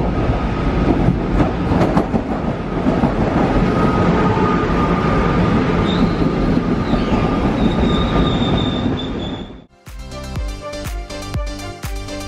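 Train pulling into Ljubljana railway station: a loud continuous rumble of wheels on rails with squealing brakes rising over it, then a sharp change to rhythmic clanking and clicking as the cars roll past close by.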